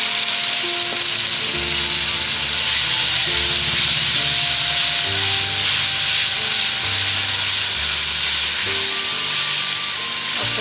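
Tomatoes go into a pan of frying onion, garlic and ginger for a restaurant-style chana dal, and a steady loud sizzle and hiss runs throughout with occasional stirring scrapes.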